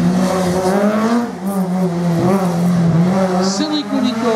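Race car number 70 at the Quettreville hill climb roars past with a sustained, loud engine note that rises and falls as it goes by, and a commentator talks over it throughout.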